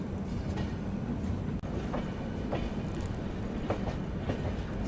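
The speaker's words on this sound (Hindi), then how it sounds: "सामने से कोई लोकोमोटिव शंटिंग करता हुआ आ रहा है।" Rolling train noise heard from aboard a coastal route between Bhubaneswar and Kolkata as an electric locomotive shunts past, a steady low rumble with rhythmic wheel clicks and faint clatter, no talking.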